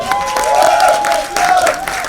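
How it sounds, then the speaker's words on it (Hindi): Applause from the audience at a song launch event, a dense burst of clapping that carries on steadily for a couple of seconds with crowd noise mixed in. "एक बार जोरदार ताली होनी चाहिए"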